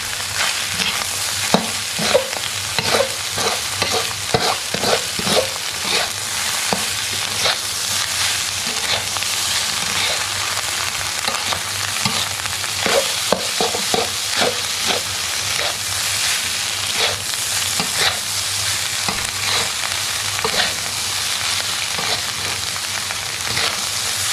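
Bacon and egg fried rice being stir-fried in a hot pan, with a steady sizzle and repeated scraping, clattering strokes of a spatula throughout, close and fairly loud with no talk.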